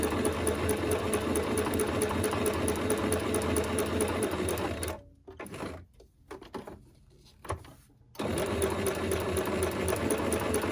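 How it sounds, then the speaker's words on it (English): A sewing machine runs a loose stitch around the edge of paper, a steady close mechanical whir that stops briefly for a few seconds of quiet handling, then resumes. "I'm just doing a loose stitch all around the outside."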